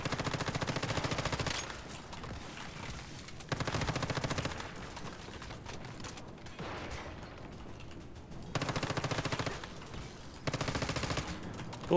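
Gunfire in the video game Once Human, with dense bursts of automatic shots repeating in loud volleys and a continuous combat din between them, no speech over it.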